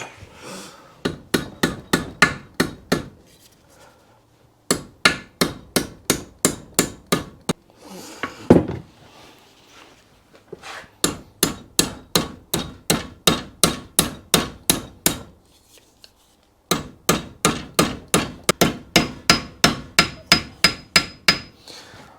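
Rapid, steady hammer blows ring out on metal in long bursts of many strikes, pausing briefly between runs; close and sharp, with no talking.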